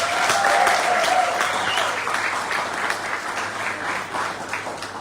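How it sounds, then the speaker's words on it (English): A graduation ceremony audience at the University of the West Indies claps in sustained applause, loud at first and gradually thinning, with a brief tone sounding early on. "Another round of applause."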